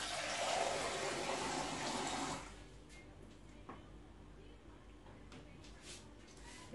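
Water pours briefly from a tap into a measuring cup with a rushing splash, then stops, leaving quiet room noise and faint clinks.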